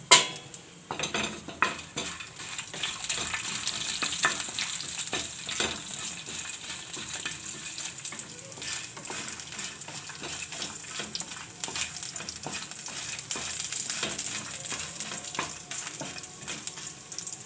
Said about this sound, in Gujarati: તો આની આ કઢાઈમાં આપણે આ મરચાં આ બધું નાખી દેવું